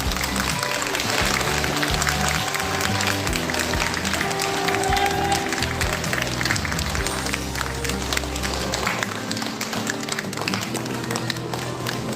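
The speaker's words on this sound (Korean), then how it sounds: "큰 박수로 맞이해 주시기 바랍니다" An audience at a seniors' job-program gathering in a Dong-gu, Incheon community hall claps to welcome the district mayor's entrance, a steady, dense patter of hands over a low musical background.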